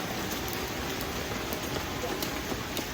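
Heavy rain pours down at night in a dense, even wash of hiss, with scattered louder drops landing nearby throughout.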